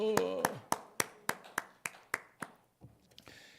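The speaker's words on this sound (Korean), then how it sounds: "박수" A church congregation at a Sunday worship service claps in unison, about ten crisp, evenly spaced claps in a steady rhythm that thin out and fade near the end.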